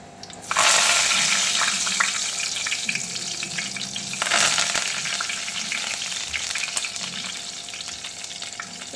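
Curry leaves dropped into hot oil in a pan with fenugreek seeds, for a sardine curry, bursting into a loud sizzle and crackle that stays steady for several seconds, with a second surge of spitting midway and no talking.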